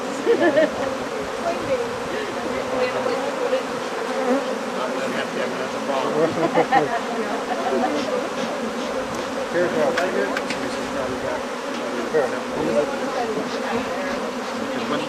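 Honey bees buzz during hive splitting at a beekeeping class, a dense steady drone of many insects filling the air, continuous and fairly loud with no clear talk.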